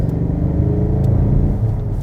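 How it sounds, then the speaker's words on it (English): A 2018 Ford Mustang EcoBoost with a four-cylinder engine idles and revs in a steady low rumble, close and fairly loud, with no talking. "a 4-cylinder engine in a Mustang sounds like this"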